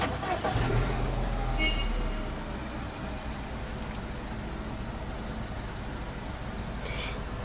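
A 2010 Mini Cooper S engine starts with a short crank and catch, then settles into a quiet, steady idle heard from close by.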